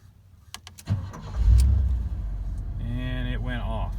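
A 1985 Chevy C10 pickup engine is cranked with the key and catches, rising to a loud low rumble and settling into a steady idle while someone talks over it.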